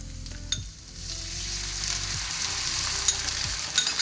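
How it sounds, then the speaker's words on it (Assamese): Capsicum sizzles and fries steadily in a pan, with occasional stirring scrapes over a constant crackle and no talk. "সেইখিনি কেপচিকাম ভাজি হৈ লওক"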